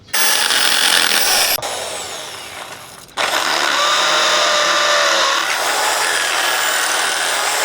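A power drill bores holes for screws in loud, sustained whining bursts, one run easing down before a short pause and a second strong run that holds steady to the end.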